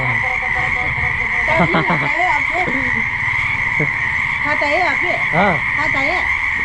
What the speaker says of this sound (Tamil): இது வந்து தவளை குஞ்சுங்க இது வந்து பெரிய தவளை